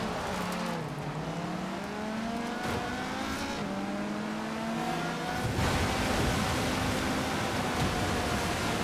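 Volvo 850R engine in Forza Horizon 4, a steady, close engine drone that rises in pitch as the car accelerates through gears, with a louder surge near the end and no talk.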